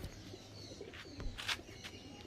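An Andhra pigeon coos softly in a loft, a few low throaty coos close by over faint background rustle.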